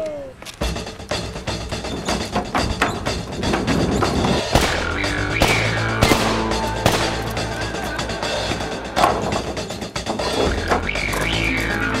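Loud, sustained gunfire rattles in rapid overlapping bursts and sharp cracks over a dense, busy background of action noise, continuous throughout with no clear pauses.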